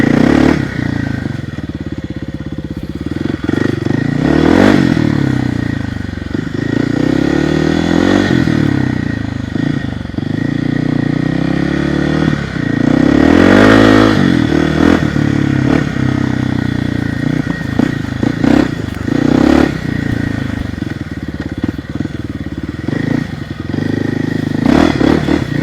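Dirt bike engine droning steadily throughout a ride, a Trailmaster TM 31 or Kawasaki KLX 300, with repeated revs and throttle swells, plus clatter and scraping from the trail under the close, continuous motor.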